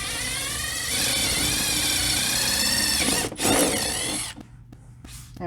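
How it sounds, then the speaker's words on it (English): A power drill with a 5/16 bit bores a hole while fitting mud flaps to a 2008-2014 Subaru STI hatch, a loud steady whine for about four seconds, dipping in pitch as it bites, then stopping. "match drill the hole in the center of here. We're using a 5/16 drill bit."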